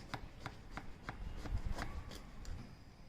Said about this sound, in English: Let me just try and cut out a slice.